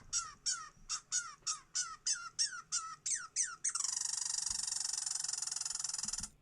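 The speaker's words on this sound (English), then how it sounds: "So that's a red squirrel" A red squirrel gives about a dozen sharp, evenly spaced squeaky chirps, then breaks into a long, rapid buzzing trill. The calls are fairly faint with no other sounds.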